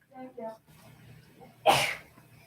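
A single sharp sneeze bursts out loudly after some brief murmured voices, standing out clearly against a quiet room.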